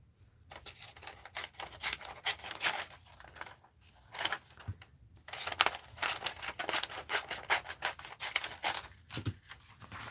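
Scissors snip through narcissus flower stems in a quiet indoor craft setting, giving a faint run of crisp cuts, rustles and crinkles with no talking.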